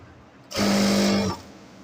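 A sewing machine stitching fabric for palazzo salwar trousers, one short burst of steady mechanical whirring with a strong hum, lasting under a second between quiet moments.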